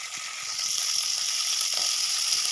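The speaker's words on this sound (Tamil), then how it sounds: "நம்ம ஏற்கனவே அரிஞ்சு வச்சுருக்கோம் இல்லைங்களா வெங்காயம் பூண்டு கருவேப்பில்லை அதை வச்சு நம்ம என்ன பண்ணலாம் வானலில் போட்டு கொஞ்சம் ஃப்ரை பண்ணிக்கலாம்" Chopped onion, garlic and curry leaves fry in hot oil in a pan, producing a steady, close hissing sizzle throughout with faint clicks and no voices.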